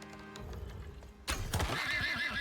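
A horse in the video game Icarus gives a short, loud whinny after a quieter stretch of background sound, with the neigh rising sharply partway through and no talking.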